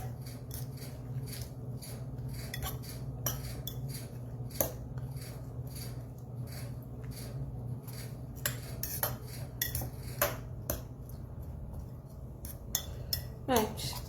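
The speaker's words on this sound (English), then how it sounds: "just mixing all the ingredients together." Salmon quiche ingredients are stirred together in a bowl, with quick repeated scraping and clinking of a utensil against the bowl over a low steady background hum.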